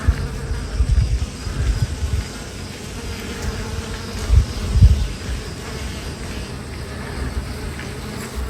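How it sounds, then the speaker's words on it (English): A dense swarm of bees buzzes continuously at close range, a steady droning hum that swells louder for a moment midway through. "Hundreds and hundreds of bees."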